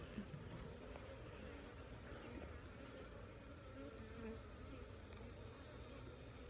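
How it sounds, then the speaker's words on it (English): Bees buzz steadily and faintly around an opened beehive box, a soft continuous drone that holds throughout with no talking. "Bees on it."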